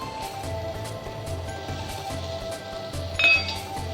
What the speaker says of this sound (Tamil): பன்னீரையும் மிக்ஸ் பண்ணி பண்ண போகிறோம்